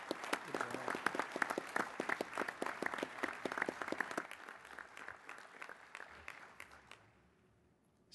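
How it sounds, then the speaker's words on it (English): A business-session audience bursts into crisp, rapid applause at close range, staying lively for several seconds before thinning and fading out to near silence. "Mr. Garcia got us all applauding there"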